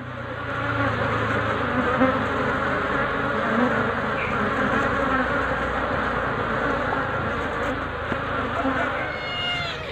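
Dense, steady buzzing of many honey bees close by, a constant droning hum with no break and no voices.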